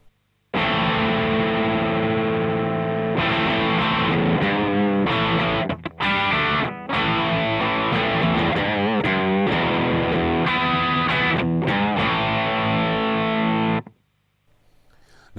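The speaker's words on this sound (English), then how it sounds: "it definitely is a distortion pedal rather than an overdrive pedal" Heavily distorted electric guitar through a Guitar Tech Classic Distortion pedal with gain around 1.5 plays sustained chords and riffs for about thirteen seconds, then cuts off to near silence.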